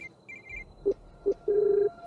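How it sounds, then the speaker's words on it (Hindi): A telephone rings as a sound effect in a Hindi horror story: a few faint electronic tones followed by short, then longer, clear ring bursts, heard alone without speech. "सोबती का फोन बजा"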